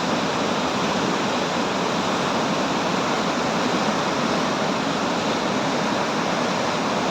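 Dhuadhar Falls on the Narmada river thunders as a steady, dense roar of falling water, loud and unbroken throughout with no voices.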